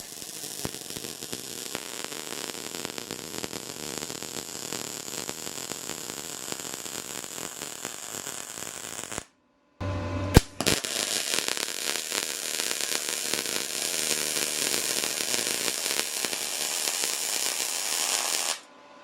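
A Prime Weld MIG 180 welder lays a straight bead on thin metal, giving a steady crackling buzz that runs continuously, breaks off briefly, then resumes just as loud and close.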